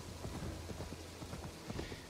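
Rhythmic clip-clop of horse hooves at a steady walk from Assassin's Creed Valhalla, a continuous low thudding pattern close by with no talk.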